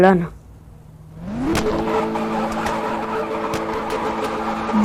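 A car in the Car Parking video game revs up from a low idle into a rising, sustained acceleration with a rough, tonal engine note and occasional sharp clicks.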